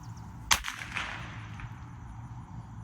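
A recorded fireworks sound is played for a standard poodle puppy: one sharp, faint crack followed by a fading rumble over a quiet indoor background.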